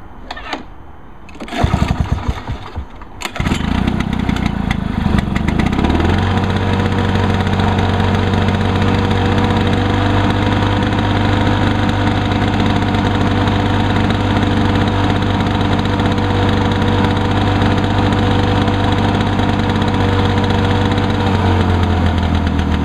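A small mower engine catches after a couple of pulls and settles into a steady, loud, buzzing idle, close by.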